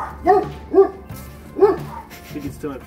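A dog barks several times in short, irregular bursts, fairly close and clear against a quiet background.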